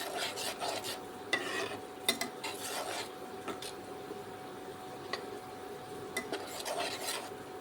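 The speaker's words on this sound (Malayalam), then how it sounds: "അപ്പോൾ ഞാൻ ഇളക്കി കൊടുക്കണം ഇടയ്ക്കിടയ്ക്ക്, അല്ലെങ്കിൽ അടി പിടിക്കും" Fish curry being stirred in a pot, with a utensil scraping and knocking against the sides in irregular strokes over a steady simmering hiss, close by with no talk.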